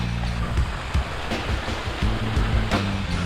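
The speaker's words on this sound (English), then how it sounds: "Check it out, the world's smallest waterfall" A micro-sized waterfall along the road to Hana on Maui, giving a steady, close rush of falling water with a faint low hum underneath and no voices.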